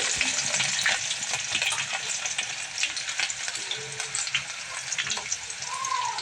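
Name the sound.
garlic frying in hot oil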